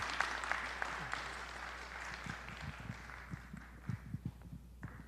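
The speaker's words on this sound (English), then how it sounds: "let's give Congresswoman Mace a round of applause" A forum audience applauds Congresswoman Mace at a South Carolina gubernatorial candidate event, a moderate, fairly distant wash of clapping that carries on for several seconds and gradually thins out.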